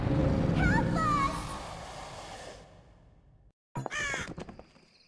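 Crows caw menacingly in the Dark Parables video game, giving several harsh, close cries over a breathy ambient bed. A brief silence follows, then another sharp burst of cawing.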